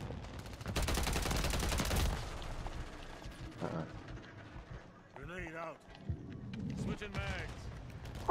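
A dense burst of rapid gunfire from Call of Duty on the Shipment map, followed by quieter scattered shots and effects while a voice talks over the game.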